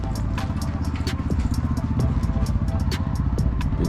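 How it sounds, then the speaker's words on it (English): A Lexmoto 125 motorcycle engine turns over and settles into a close, loud, rapid clattering idle, with sharp mechanical ticks over the steady putter. "I think I can hear my bike being started"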